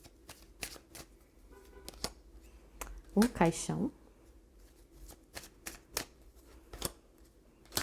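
Lenormand (baralho cigano) fortune-telling cards being shuffled in a tarot-style reading, a run of crisp riffling clicks and slaps with a denser burst in the middle, under someone speaking.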